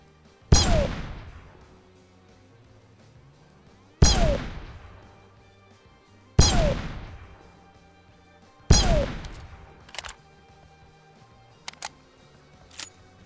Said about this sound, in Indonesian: Ini nembakin bot ternyata. Kira dia nembakin gua.